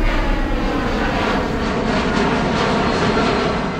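Steady broadband roar of an airliner's jet engines heard from inside the cabin during flight, a constant dense rumble and hiss with no change in pitch and no voices.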